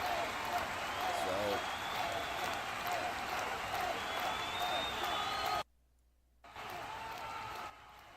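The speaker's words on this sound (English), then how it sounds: "now that we got the crowd noise in" Continuous video game crowd roar with scattered cheers during a baseball game, briefly cutting to near silence before the crowd noise returns more quietly.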